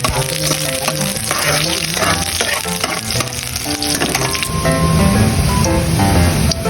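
Garlic sautés loudly in a hot pan for ground pork, a dense, close crackle with stirring scrapes throughout and brief faint voice.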